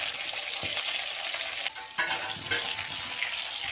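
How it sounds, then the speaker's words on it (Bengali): Potatoes fry in hot oil for a mixed vegetable dish, a brief, close, crackling sizzle with quick stirring scrapes. "আমি আলুগুলো কষে নেব।"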